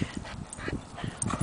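A dog gives soft whimpers and short yips in quick, uneven bursts, fairly close but quiet, over faint background noise with no clear speech.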